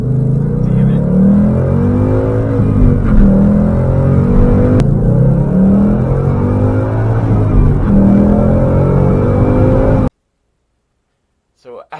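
A car engine runs steadily right after a fresh oil change, a loud continuous drone with slight revving swells, then it cuts off abruptly near the end, followed by brief silence and a short burst of sound.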